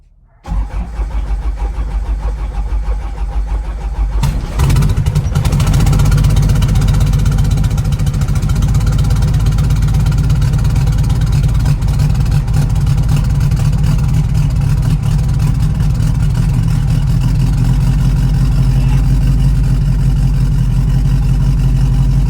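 An Enstrom helicopter engine cranks quietly, then catches a few seconds in and settles into a loud, steady idle that holds to the end, alone with no talk.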